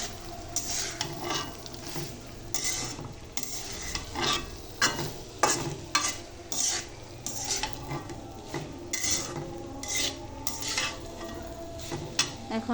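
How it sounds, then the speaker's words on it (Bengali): Rice being stirred in ghee in a pan, with a steady run of scraping, shuffling strokes over a light sizzle and occasional clinks of the spoon against metal, close and moderately loud, no talking. "ঘির সাথে আমি চালগুলো ভালো করে নেড়ে নিব।"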